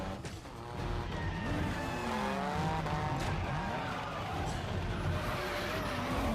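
Race cars roar by with sweeping engine pitch and sustained tire squeal and skidding, layered with loud film-style motion, from the Speed Racer movie; no talking over it.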